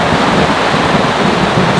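Heavy storm rain pours down onto a tarp in a steady, dense roar, close and loud with no pauses.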